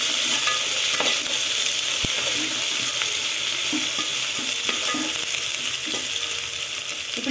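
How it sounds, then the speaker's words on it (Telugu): Ginger garlic paste fries for fish biryani, a continuous close sizzle broken by occasional soft scrapes and taps of a spoon stirring in the pan, with no talk. "ఇప్పుడు ఇందులోకి అల్లం వెల్లుల్లి పేస్ట్ చేద్దాం, వేసుకొని బాగా కలిపేసుకోవాలి."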